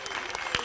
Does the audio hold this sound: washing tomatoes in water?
no